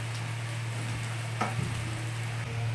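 Egg being scrambled and fried in a pan with spices, a steady close sizzle with occasional scraping stir sounds and a faint low hum underneath, no talking.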